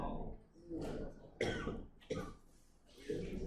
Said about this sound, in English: are you having a back cough?